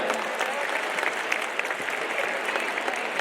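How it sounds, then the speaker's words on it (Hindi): Enthusiastic audience applause at the Delhi Olympic Games event for the organisers, a steady, even roar of many hands clapping throughout with no talk over it. "जोरदार तालियां बजा दीजिए एक बार।"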